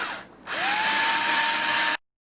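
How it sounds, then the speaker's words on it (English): A small cordless screwdriver whirs steadily for about a second and a half, removing screws from a fan, with a rising motor pitch as it spins up and a clean stop. "I like using this little cordless screwdriver"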